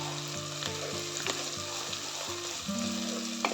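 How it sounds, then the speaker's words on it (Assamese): Ginger and garlic paste fries with onions in hot oil for a Kashmiri chicken masala, a steady close sizzle broken by a few light stirring scrapes and clicks, with no speech. "এতিয়া আদা নহৰুখিনি ভালদৰে ভাজিম"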